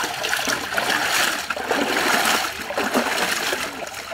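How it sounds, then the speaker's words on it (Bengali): Rohu fish being washed by hand in water, a continuous close splashing and sloshing with bursts of swirling and rinsing. "আমরা সুন্দর করে মাছটা ধুয়ে নেবো, দাঁত করে ধোবো"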